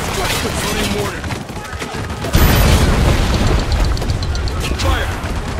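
Mortar fire and explosions in Spec Ops: The Line produce dense, heavy booms and rumbling blasts, with one sharp louder impact partway through, mixed with battle noise and shouted voices.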